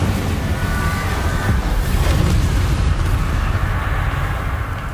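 Incendio fire spell cast in Hogwarts Legacy, a dense, roaring burst of flame with a deep rumbling body that swells and holds for several seconds, loud and close.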